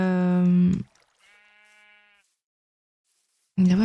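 A sheep in a video game gives a short, thin, tonal bleat, sitting between louder stretches of someone speaking nearby.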